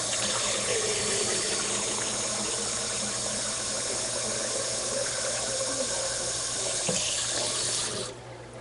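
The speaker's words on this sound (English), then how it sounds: "using the tap water" A kitchen tap runs in a strong, steady gush for several seconds close by, with the stream changing tone as a container of about 750 millilitres fills, then easing off at the end.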